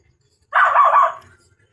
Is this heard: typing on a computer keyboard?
no